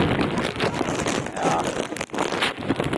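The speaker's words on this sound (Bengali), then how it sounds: "বাতাস।" Steady wind roars and buffets across the microphone outdoors on the bank of the Buriganga River during rain, a rough continuous rush with brief dips.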